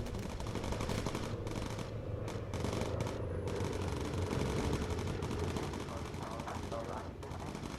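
Bomber gunners in the Bomber Crew game fire incendiary rounds at attacking fighters: a dense, continuous rattle of machine-gun fire with engine drone beneath, steady and loud throughout with no pauses.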